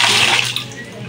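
Water gushes strongly from a tap in a restroom at a nature park, a loud, continuous splashing rush filling the whole moment with no voices over it.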